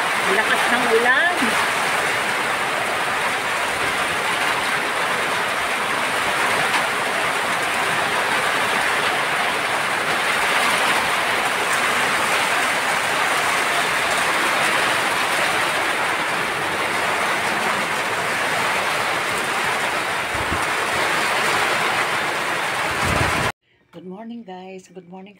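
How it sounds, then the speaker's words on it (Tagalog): Heavy rain pours steadily in a dense, loud roar for over twenty seconds, then cuts off abruptly, followed by a brief faint snippet of other sound. "Lakas ng ulan."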